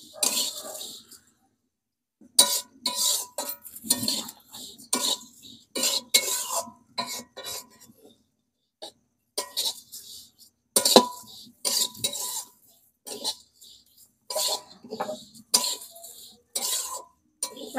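Vermicelli is stirred as it fries in a pan, heard as repeated short scraping and clinking strokes in uneven bursts separated by quiet gaps, with some voice sounds between them.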